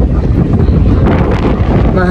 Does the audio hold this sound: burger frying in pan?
no